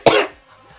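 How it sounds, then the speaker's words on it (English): A single sharp, close cough from a person, brief and loud, followed by a faint quiet tail. "Sometimes I just cough."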